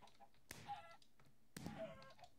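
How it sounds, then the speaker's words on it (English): Chicken clucking in Minecraft, two faint short cluck bursts about a second apart over low game ambience, with no talk. "Oh, that can die, my stupid chicken."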